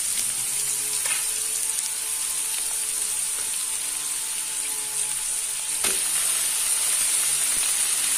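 Raw banana pieces frying in a pan, a steady close sizzle with faint stirring clicks and one sharp scrape near the end.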